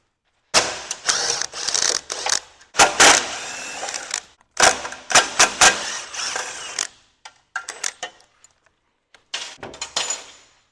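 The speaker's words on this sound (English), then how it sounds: "Okay, so now we're going to take off these 3 bolts." A ratchet wrench works 14mm bolts off the cover of an ABS 250 aftercooler. Close, crisp bursts of rapid clicking come and go with short pauses between them.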